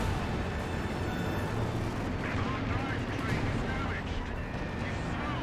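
Continuous loud battlefield din from a Company of Heroes 2 match, with a Panzerfaust or anti-tank grenade striking a Panzer IV amid rumbling explosions and gunfire, while a voice talks over it.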